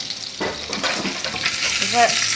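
Meatballs sizzle steadily in a hot frying pan, a continuous crackling fry with occasional stirring scrapes, close and fairly loud throughout.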